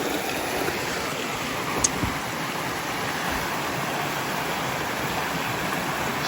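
A steady, moderate stream flows at a water crossing in a state park with waterfalls in autumn, a continuous even rush of water close by with no speech.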